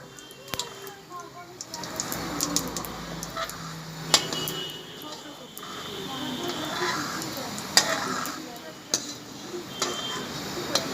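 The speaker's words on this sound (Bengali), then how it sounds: "জিরে ফোড়ন দিয়ে দিলাম।" Cumin seeds crackle and sizzle in hot oil in a home kitchen, a soft, steady frying hiss punctuated by sharp ticks and pan clinks, with a voice speaking over it.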